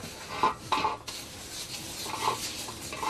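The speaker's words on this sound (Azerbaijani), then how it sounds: "qapqara qazan, mis qazan, gümüş rəngini alır yavaş-yavaş" A blackened copper cauldron being scrubbed and polished by a craftsman gives off rough scraping and rubbing with a few light metallic clinks, steady but fairly quiet, against faint workshop background.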